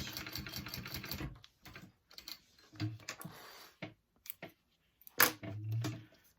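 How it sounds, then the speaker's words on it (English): Sewing machine stitching down the folded edge of a fabric beach pouch, short bursts of rapid mechanical stitching separated by pauses and handling clicks, close and moderately loud. "I'm going to stitch"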